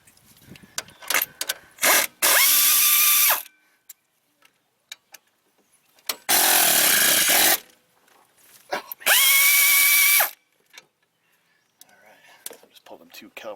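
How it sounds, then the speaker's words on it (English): A power tool loosens the front brake caliper bolts on a Jeep Grand Cherokee, roaring in three loud, close bursts of about a second each, separated by pauses with small clicks and handling noise. "Let's get the caliper bolts loose."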